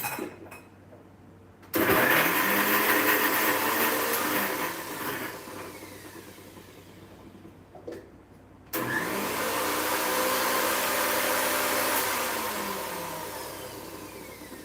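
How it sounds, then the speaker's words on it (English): A kitchen blender grinds ginger and chili into a paste, its motor roaring loudly in two long continuous runs separated by a brief pause, with no talking. "here is my blender, ginger and chili. I'm going to make a paste."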